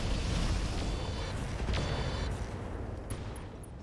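Weapons fire at a target in the mech combat game RogueTech, a dense rumbling barrage of shots and blasts held at steady loudness, with a few small high-pitched beeps near the end.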